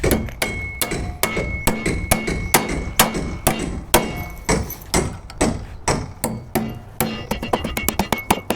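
Steady hammer blows driving nails into wood during house construction, close and loud, a rapid irregular series of sharp knocks that quickens near the end.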